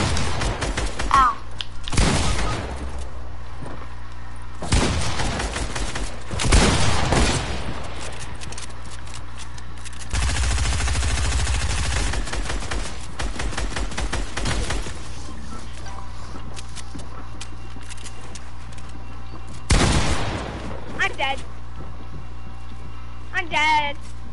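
Video game gunfire cracks out in sharp, heavy bursts and rapid volleys, with a long sustained barrage in the middle, while players' voices talk throughout.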